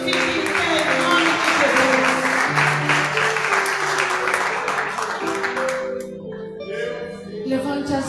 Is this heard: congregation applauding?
yes